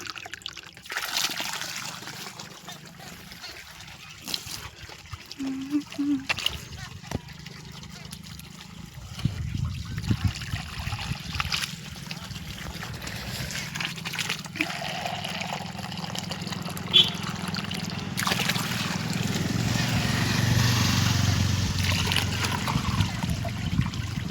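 Water is poured onto a tree outdoors in a hilly area, giving a soft, uneven trickling and splashing. The sound runs on with brief pauses and grows steadier and fuller toward the end.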